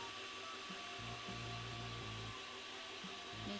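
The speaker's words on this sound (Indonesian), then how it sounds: "Mixer sampai kaku atau sampai putih berjejak" An electric mixer whirs at high speed beating cake batter, a faint steady whine with shifts in pitch as the beaters move through the bowl.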